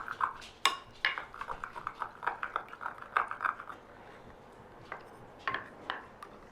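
A utensil clinks and scrapes against a bowl while Greek yogurt and other ingredients are mixed for a gluten-free chicken pot pie. The taps come in an irregular run, close and moderately loud, with no talking.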